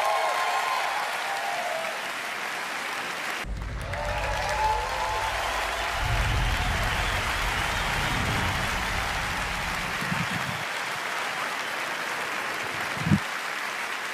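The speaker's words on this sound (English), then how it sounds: "Another round of applause, please" Applause fills the hall at Bethesda's E3 2019 press conference, a dense, rain-like crowd clapping that continues throughout, with deep rumbling music or sound underneath in the middle and a single sharp knock near the end.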